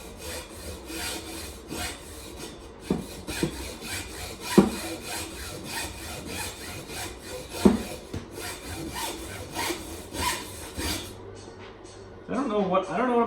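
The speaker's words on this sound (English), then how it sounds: "I'm gonna try the hacksaw first because it's a finer tooth blade." A fine-tooth hacksaw rasps steadily through material in rapid back-and-forth strokes, close up, with a few sharper knocks along the way. A voice speaks over part of the cutting.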